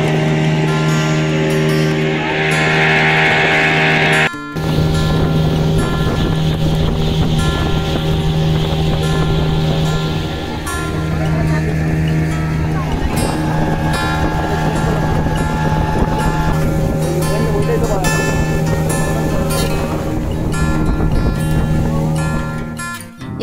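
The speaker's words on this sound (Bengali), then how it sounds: "এই বোট রাইডটা খুবই ভালো লাগছিল" A fast boat speeds through mangrove channels, its engine droning loudly and steadily while water spray and wind rush over the microphone, with one brief cut near the start.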